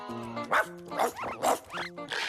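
A cartoon dog, the boy Johnny transformed into a dog, barks four times in a quick, even rhythm, close and clear in an animated French-dubbed scene.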